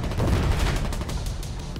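Artillery fire in the war video game Foxhole, a sustained rumbling barrage of overlapping booms and rapid blasts, loud and continuous with heavy low-end rumble.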